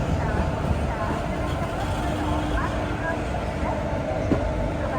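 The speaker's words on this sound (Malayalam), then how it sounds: "നമ്മുടെ ട്രെയിൻ 1ലേക്കാണ് വരുന്നത്." Passenger train arriving at platform 1 of a station on the Kollam to Thiruvananthapuram line, a steady low rumble and rolling clatter of rail cars under crowd noise and voices.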